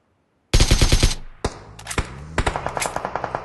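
Gunfire in the mobile game BGMI: a loud burst of rapid automatic shots, then a few sharp single shots, then another quick rattling burst.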